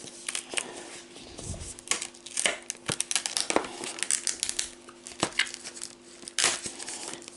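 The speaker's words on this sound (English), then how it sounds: "Break the seal here. Get the shrink wrap off." Crinkly plastic shrink wrap crackles and tears off a LaserDisc or CED videodisc package in a series of sharp, irregular bursts close by, with faint handling noises in between.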